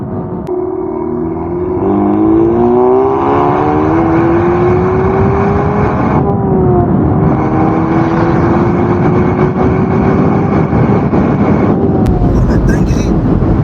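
A tuned VW Polo GTI with an APR remap cruises on a French motorway, its engine droning steadily and rising through a shift, heavily buffeted by loud wind noise close to the microphone.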